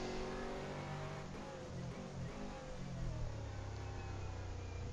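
GT3 race cars roar around the Misano circuit in a racing video game, a continuous loud engine drone that rises and falls in pitch with gear changes and throttle, with no talking.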